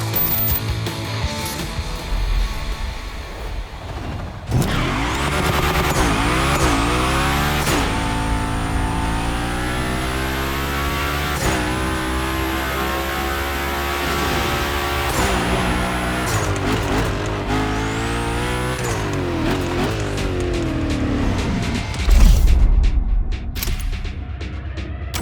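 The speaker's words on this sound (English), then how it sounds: "I wanna see how accurately you can actually slide this thing around." A Hoonigan car in The Crew Motorfest racing game revs and screams through repeated slides, engine pitch rising and falling with gear shifts and tire squeal over a continuous, loud drone.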